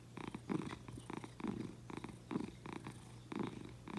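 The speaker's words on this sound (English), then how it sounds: "She's purring very loud." A content store cat lying on a bed purrs loudly and close up, a steady rhythmic rumble pulsing about once per second with no other sounds.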